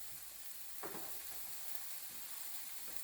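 Shallots sizzle softly in a pan with browned lamb juices and bits, a faint continuous frying hiss with a couple of brief stirring scrapes.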